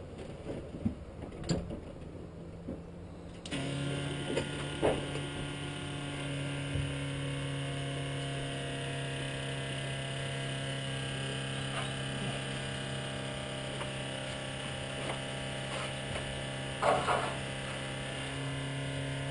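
An electric fuel pump on a Ferrari 308 GTS switches on after a few seconds of quiet clicks and then runs with a steady, close buzzing whine while it fills the carburetor.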